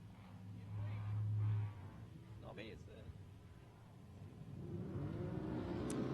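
Race cars roll away from the start, their engines rumbling and swelling louder toward the end while a commentator talks over them.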